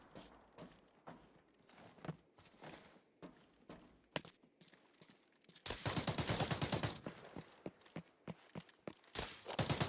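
Rifle fire in a first-person shooter game, scattered single cracks at first, then a dense rapid burst of shots close and loud, with footsteps-like clatter between volleys and no voices.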